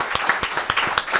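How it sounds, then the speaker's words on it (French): A short burst of audience applause, a quick run of sharp overlapping claps at close range, heard alone for about a second. "ça mérite quelques applaudissements"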